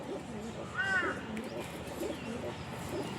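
Pet pigeons of fancy breeds (kalshira, fulsira, golden) give faint, soft coos at close range, mostly under nearby talk.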